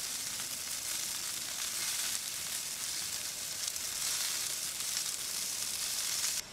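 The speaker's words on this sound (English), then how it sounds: "they've been cooking for about 10 minutes on a medium grill" Marinated Portuguese chicken pieces sizzling on a medium grill, a steady bright hiss and crackle that continues evenly throughout with no talking.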